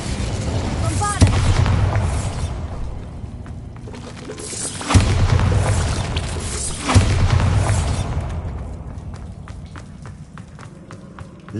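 Spell explosions from Hogwarts Legacy, the Bombarda blast among them, boom repeatedly in heavy bursts at about 1, 5 and 7 seconds. Each blast is loud and rumbling and decays slowly, over continuous game music and effects.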